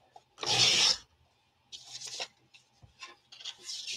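A paper trimmer slicing paper: a loud, close rasping cut, followed by several softer scraping and sliding strokes as the blade and sheet are moved, with no talking.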